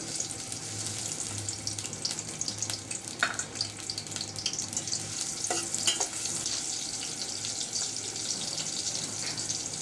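Chopped onions fry in a pan for a chicken and bottle gourd curry, a continuous hissing sizzle with occasional scrapes and clinks of stirring, close and steady with nobody speaking.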